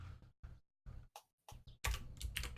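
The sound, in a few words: typing on a mechanical keyboard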